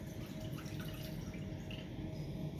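About 32 ounces of water poured into a cooking pan for tteokbokki, a steady, continuous splashing rush that stays even throughout, fairly faint with no speech.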